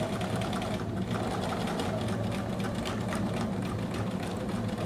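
A sewing machine stitching three layers of double fold bias tape and a hood seam runs continuously and loud, a dense fast whir held steady throughout at close range, with no pauses or talk.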